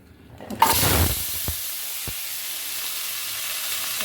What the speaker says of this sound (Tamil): இதை எண்ணெயில் போட்டு வதக்கலாம்